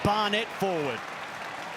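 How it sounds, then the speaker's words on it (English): A Newcastle crowd at a rugby league match between the Newcastle Knights and Penrith Panthers applauds a run. The broad, steady roar of the crowd continues under a commentator's speech and carries on alone once he stops. "that's appreciated by the Newcastle crowd, that run"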